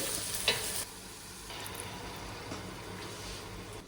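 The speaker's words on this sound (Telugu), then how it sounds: "టమాటోలు కొంచెం మగ్గిన తర్వాత దీంట్లోకి చింతపండు పులుసు పోసుకోవాలి." Tamarind juice is poured into a pan of softened tomatoes for Nellore fish pulusu, giving a loud, broad splash and hiss at the start that settles into a steady, close sizzle with light stirring scrapes.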